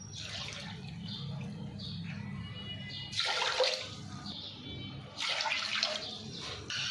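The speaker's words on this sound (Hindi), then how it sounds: "उसके बाद आपने इसके अंदर 3 कप पानी डाल लेना है।" Three cups of water poured into sugar in a pot for gulab jamun syrup, splashing in bursts of gushing flow close by, with quieter pauses between pours.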